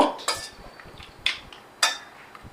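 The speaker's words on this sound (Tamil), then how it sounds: "இதை வந்து நல்லா கலந்து விட்டுக்கலாம் இப்போ" Mutton chukka being stirred in a pan, with three sharp metal scrapes of a spoon against the pan at a steady spacing, close and fairly quiet, with no talk.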